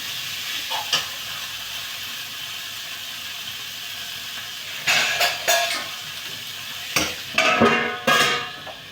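Vegetable bhaji frying in a pan over low gas, a steady soft sizzle throughout with occasional clanks and scrapes of stirring, clustered toward the end.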